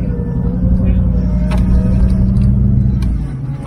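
A 4x4 vehicle on a Yalwal off-road competition track rumbles with a steady loud low engine drone while being winched and driven up, with faint voices in the background.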